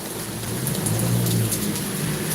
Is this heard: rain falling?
yes